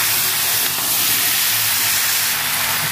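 Cut potatoes and onions fry in a pan for a Bengali potato and soybean dish, making a loud, close, continuous sizzle with no pauses.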